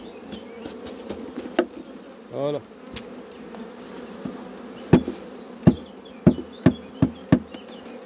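Honeybee swarm being settled into a hive gives a steady insect buzz under a series of sharp taps and knocks, several spaced clicks near the end, with a voice speaking briefly.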